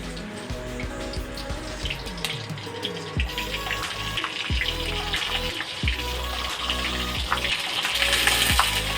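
Pointed gourds drop into a hot pan and fry, a steady hiss and sizzle with scattered clinks and scrapes, growing a little louder toward the end, with no voices.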